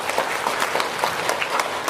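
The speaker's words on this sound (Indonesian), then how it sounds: "tepuk tangan dulu dong" Audience at a motivational talk in Hong Kong claps briefly, a short spell of scattered, moderately distant applause with a few distinct hand claps standing out.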